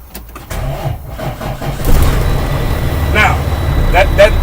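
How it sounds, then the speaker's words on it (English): A heavy vehicle with air brakes, in neutral with the clutch pressed, is cranked and fires up, its engine catching and rising to a steady running rumble, with a few brief higher chirps near the end. "Next thing I'm gonna do, I'm gonna crank up the vehicle."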